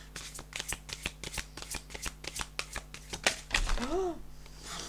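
Cards being shuffled in a rapid run of crisp riffles and flicks, close up, ending with a few louder slaps and a short voice.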